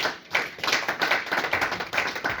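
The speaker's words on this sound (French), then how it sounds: "Acclamons d'abord pour Jésus" A congregation in a church service claps in praise for Jesus, steady rhythmic hand claps in a quick repeating pattern, fairly close and alone without voices.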